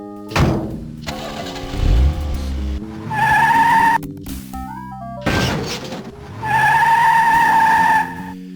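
A cartoon car in the Sam and Max Hit the Road video game starts up and drives off with repeated loud tire-skid squeals and engine bursts, in several separate bursts with no talking.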